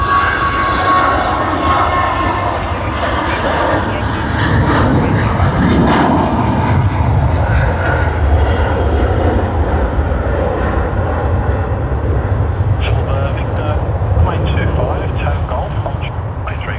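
An airliner departing for Alice Springs roars steadily at Sydney Airport, a loud continuous engine rumble that holds for the whole stretch, with someone talking over it.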